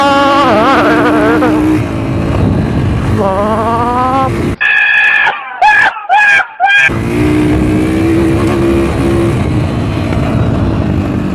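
A man vocally imitates a motorcycle engine while riding a motorbike outdoors, his loud rising and falling engine-like drone running most of the time, broken by a short stretch of sharper sputtering vocal bursts in the middle.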